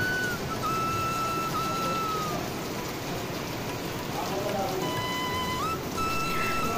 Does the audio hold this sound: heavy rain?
yes